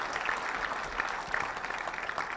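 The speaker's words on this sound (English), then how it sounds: "Just give him a round of applause" A crowd gives a steady round of applause for General Muhoozi, dense clapping from many hands sustained throughout at moderate level with no talk over it.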